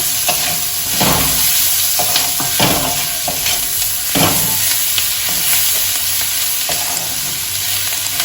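Kalmi greens frying in a pan with turmeric and chopped chillies, a steady close sizzle broken by repeated scraping strokes of a spatula stirring the mixture.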